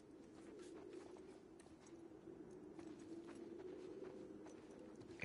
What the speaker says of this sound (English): God, these fucking pigeons,